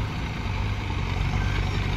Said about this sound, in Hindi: जेसीबी चल रहा है और सब ट्रैक्टर चल रहा है